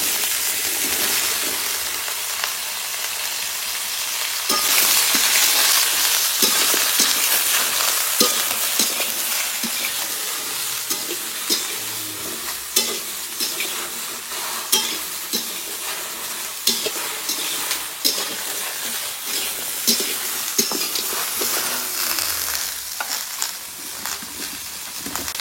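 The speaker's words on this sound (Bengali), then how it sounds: "সবজিগুলো তেলের মধ্যে দিয়ে দেবো" Mixed vegetables (eggplant, bottle gourd stems, taro, ridge gourd and potato) hit hot oil and fry with a loud, bright, continuous sizzle, broken by intermittent stirring scrapes and clatter at close range.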